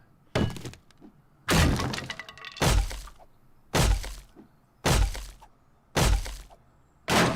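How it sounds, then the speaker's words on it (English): Makeshift windows being smashed in the video game 7 Days to Die: seven loud, evenly spaced breaking impacts, each a sharp crack with a short shattering tail, alone with no talk. "we're just going to bust out these old makeshift windows"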